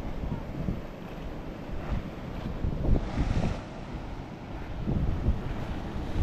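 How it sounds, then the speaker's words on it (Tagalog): Ocean waves surge and break nearby in rolling swells, mixed with strong wind gusts against the microphone and a faint boat engine underneath. "Naglalaban ng mga alon dito."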